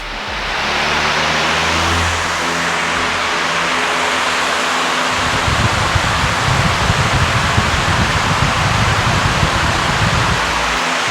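A Vyper Turbo garage fan runs at speed 80, making a loud, steady broadband rush of air, with a low rumble and a rougher fluttering texture that grows after a few seconds.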